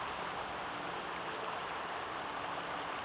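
Steady rushing water of a river near a waterfall in the Bone: Out from Boneville video game, a constant broadband wash with no breaks and no voices, at moderate distance.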